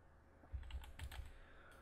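Keys tapped on a computer keyboard while entering a command in the indie shooter game Modern Shooter, a quick cluster of about six or seven close, light clicks in under two seconds over quiet room noise.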